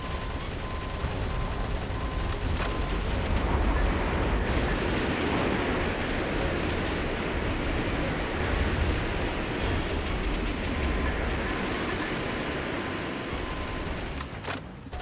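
Missile explosions and gunfire roar in the video game Metal Wolf Chaos, a dense, continuous rumble of blasts and bursts that stays loud throughout with no talking.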